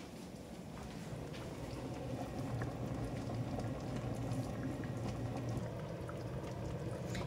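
A pot of rice cooks at a gentle simmer, giving a soft, steady bubbling hiss that stays faint and constant, close by with no voices.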